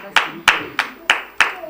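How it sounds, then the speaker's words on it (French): Five sharp, evenly spaced claps ring out at a steady rhythm, as one or a few people in an audience clap for a performer arriving during a Valentine's Day special broadcast. "Applaudissez King Glass quand il vient."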